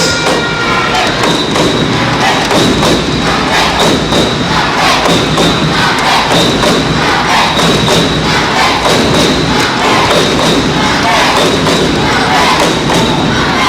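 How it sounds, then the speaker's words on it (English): A packed badminton stadium crowd roars and cheers loudly and continuously during an Axiata Cup 2012 group match, with thumping bangs from clappers or thundersticks beating through the din. "the crowd here inside the badminton stadium just going nuts"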